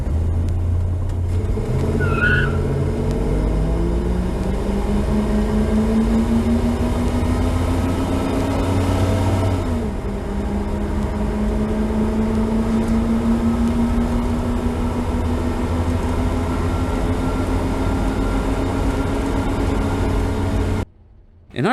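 A 318 LA V8 car launches hard in a drag race, engine note climbing steadily through the gears with a brief dip at a shift, loud and sustained for about twenty seconds before cutting off.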